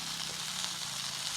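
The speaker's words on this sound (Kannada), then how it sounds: "ಹೇಗೆ ಫ್ರೈ ಆಗಿದೆ ನೋಡಿ, ಎಲ್ಲ ಎಡ್ಜ್ ಕೂಡ ಫ್ರೈ ಆಗಿದೆ" Fish frying in a pan on the bank of the Sharavathi river at Honnavara, giving a short, steady hiss of sizzling with no voices.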